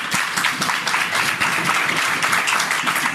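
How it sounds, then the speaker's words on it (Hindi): Church congregation at an End Time Message believers' service bursting into steady, dense applause, many hands clapping together at close range with no speech over it. "तो आपको अच्छा लग रहा है तो फिर ताली बजाएं"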